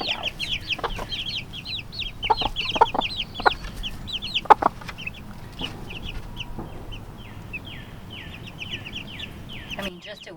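Chicks and hens clucking together in a flock, with many short, bright peeps and chirps scattered across the clip over low background noise. A few louder clucks stand out.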